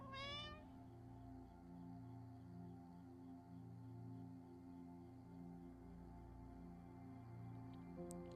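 A cat character in the video game Copycat gives a single rising meow at the very start, followed by a steady game music bed with a faint high ping near the end and no talking.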